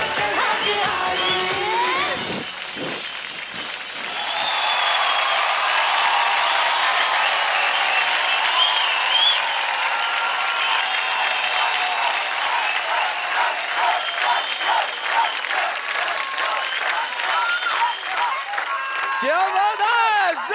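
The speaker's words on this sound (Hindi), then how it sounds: "जोरदार तालियां हो जाए मोहिना के लिए।" Loud, sustained audience applause with cheering fills a dance competition stage show for nearly twenty seconds, and a host's voice breaks through near the end.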